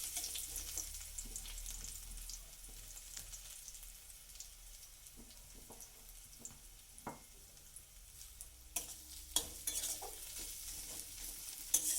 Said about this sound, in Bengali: পেঁয়াজ আর রসুনটাকে একটু ভেজে নেব